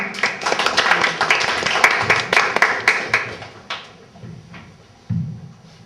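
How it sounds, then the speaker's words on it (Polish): Warm applause from a live audience welcoming a performer at a contemporary poetry-in-music concert, dense clapping that thins out toward the end with a few scattered claps and a thump. "Prosimy Kuba, a na zachętę gorące brawa"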